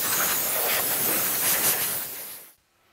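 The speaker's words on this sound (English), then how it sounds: "It's also a good idea to blow some compressed air through the dust bag." Compressed air blasts through a saw's cloth dust bag in a loud, steady broadband hiss. The hiss runs for about two and a half seconds, then cuts off abruptly into near silence.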